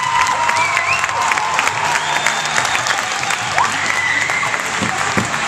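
A crowd at an ice hockey game between Solfjädern and Karlskoga claps and cheers loudly and continuously, a dense wall of applause with scattered shouts and whistles.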